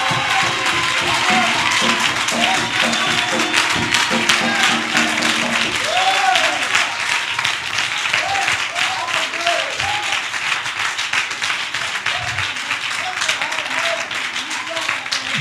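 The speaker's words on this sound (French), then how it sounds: "Donnons-lui une acclamation." A church congregation bursts into sustained applause and cheering during a French-language sermon on the Lord's return. The clapping is loud and dense, and a voice rises over the crowd partway through.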